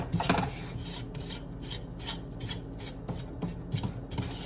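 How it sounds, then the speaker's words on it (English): A spoon scrapes and rasps steadily as thick fudge is stirred vigorously in a pot, a close, continuous rubbing sound with soft knocks against the sides and no speech. "I'm trying to stir vigorously, I really am."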